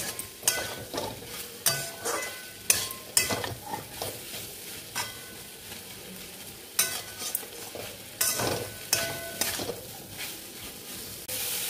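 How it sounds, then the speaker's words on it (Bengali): Prawn paste with chilli and spices sautés in a little oil, a spatula scraping and stirring in quick, uneven bursts over a low sizzle, close by. "সব শুদ্ধ একটু কষা কষা হবে, একটু কষাবো হালকা করে।"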